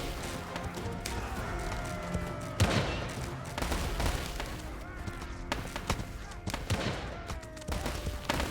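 Repeated booming cannon shots from a game battle, about ten cannons, clustered irregularly over constant battle noise, with a voice talking over them.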